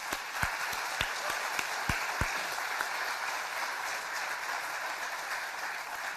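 An audience applauds at the OSU Flight Training Center announcement, with steady crowd clapping and a few loud individual claps close by in the first couple of seconds.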